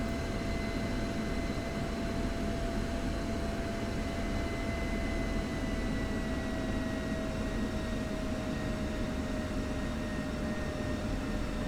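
An F-16C Fighting Falcon taxis in the DCS flight simulator. The jet engine gives a constant, even drone with a steady high whine, loud and unchanging throughout, with no voices.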